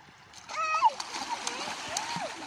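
Children splash while swimming in clear sea water at a beach in Legazpi City, making short, close splashes and watery sloshing, with children's voices and squeals mixed through them.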